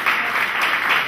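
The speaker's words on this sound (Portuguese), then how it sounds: "vamos aplaudir o Senhor por isso" Congregation applauding in church, a dense wash of many hands clapping together that swells and eases slightly over a short stretch, heard fairly close and loud without speech.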